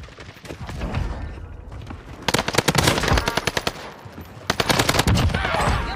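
An H4 Blixen submachine gun fires in Call of Duty on Rebirth Island, two loud rapid-fire bursts of tightly spaced shots separated by a short lull, over a low rumbling game background.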